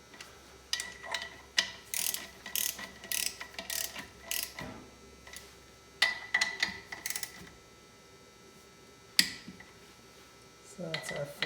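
A hand ratchet clicks in quick bursts while a bolt is tightened during a Subaru engine swap in a VW Bus, with pauses between runs and faint background noise.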